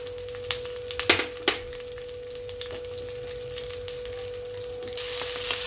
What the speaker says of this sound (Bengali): মাছটাকে আমি কেটে বেছে ধুয়ে ভাজা বসিয়ে দিয়েছি